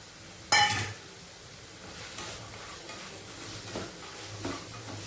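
A sharp clatter as green chilies drop into a hot pan, followed by a steady sizzle of frying with faint stirring, no voices.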